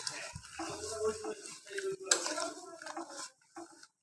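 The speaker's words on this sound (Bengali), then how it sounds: "এখন এটা দিয়ে আমি এটাকে খুব ভালোভাবে মিশিয়ে নিচ্ছি" Quail meat being stirred into a paste of turmeric, chili, coriander and cumin in a pot, with a utensil clinking and scraping against the metal in irregular bursts and a faint sizzle underneath.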